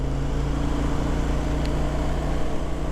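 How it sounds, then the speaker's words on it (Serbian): A 2024 Kymco AK550 Premium scooter's two-cylinder engine runs with a steady, smooth low purr and an even hum that holds without change throughout. "Ja sam mislio da je malo bučniji, ali prede kao da se više ni ne radi od neka 2 cilindra."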